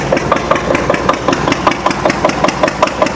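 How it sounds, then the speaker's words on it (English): A Witte diesel generator set running shortly after a cold start, a loud, fast, steady chugging with evenly spaced exhaust beats, close and without voices. "You see, it's actually running pretty fast."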